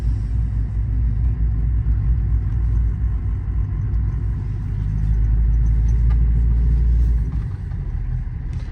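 A Ford Powerstroke diesel pickup truck engine idles with a deep, steady rumble close by, swelling slightly louder midway before settling back down.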